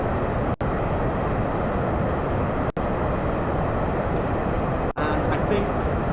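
Rocket engines burning during a launch in the Kerbal Space Program video game, a dense, continuous roar at steady loudness, broken by three brief cuts in the sound.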